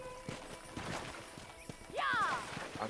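Horses in the video game Red Dead Redemption: steady clip-clop of hooves with a clear, loud whinny rising near the end, set over game ambience and faint voices.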